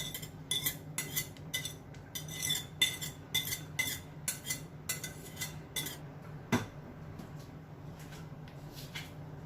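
Chopped carrots for carrot cake clatter into a container in repeated light clinks and scrapes, a quick irregular series of bright knocks in a quiet kitchen, with no talking.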